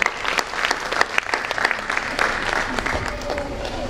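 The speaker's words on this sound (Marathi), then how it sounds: "त्यासाठी 25व्या वर्षात नेणाऱ्या संस्थेचे मुख्य संचालक देसले सर यांच्यासाठी आपण आधी टाळ्या वाजवू." Audience applause at a school annual function, a steady crowd of clapping hands filling the room, fairly loud and continuous with scattered sharper claps throughout.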